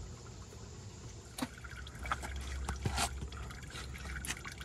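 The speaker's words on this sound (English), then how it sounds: "oil draining" Used engine oil drains from a car into a pan as a faint liquid trickle and pour, with a few soft splashes and knocks during the draining.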